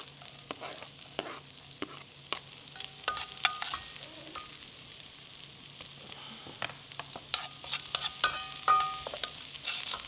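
Chopped carrots and zucchini fry in a pan with a soft, steady sizzle. Sharp utensil scrapes and clinks come in irregular bursts as the vegetables are stirred up close, with no voices.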